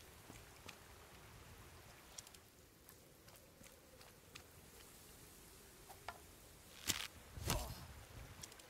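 Steady rain in the Viking-era game Expeditions: Viking, a soft continuous hiss with faint scattered patter and a couple of louder thumps near the end, no voices.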